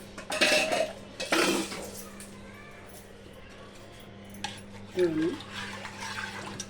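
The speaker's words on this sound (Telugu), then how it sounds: "రోట్లో దంచి వేసేసుకుంటున్నాను నేను." Ingredients for Guntur-style pachi pulusu are pounded in a stone mortar, giving a few sharp, separate thuds and knocks spread across the stretch, with someone talking in between.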